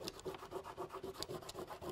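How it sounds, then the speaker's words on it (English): A finger rubs dried masking fluid off a watercolour painting to expose pebbles, giving quick, rhythmic scratchy strokes on paper, close and fairly soft, repeating steadily throughout. "I'm going to rub the masking fluid off to expose"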